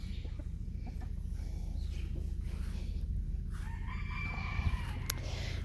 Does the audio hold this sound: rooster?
yes